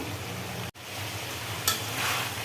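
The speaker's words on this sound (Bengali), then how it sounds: "তরকারি কষানোর মধ্যে বড়িটা দিয়ে দিলাম" Ash gourd curry with lentil bori being stir-fried in a pan, a steady low sizzle with a brief clatter of stirring, close and alone without talk.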